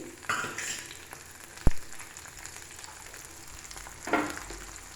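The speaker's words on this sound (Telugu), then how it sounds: "ఇలా ఫ్రై చేస్తాం." Green chillies and garlic fry in oil for gongura peanut chutney, a soft steady sizzle with a few sharp clinks and stirring scrapes, fairly quiet, no talking.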